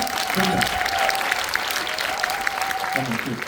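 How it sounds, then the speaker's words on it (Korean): Cinema audience applause at a film screening talk event, a steady crowd clapping throughout with a speaker's voice carrying over it. "박수 할 거면 지금 두 번째처럼 쳐주세요."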